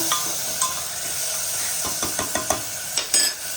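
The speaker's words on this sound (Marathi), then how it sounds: "टाकूया आता टोमॅटो टोमॅटो पण छान परतून घ्यायचं तेल त्याच्यापर्यंत" Onion and tomatoes sauté in oil, with a soft steady sizzle broken by repeated spatula clinks and scrapes against the pan, close and fairly loud.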